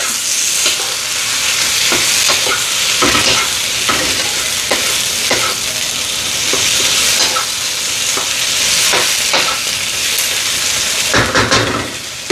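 Potatoes being stirred and sautéed in a pan with no oil, a steady loud sizzle with repeated scraping stir strokes throughout.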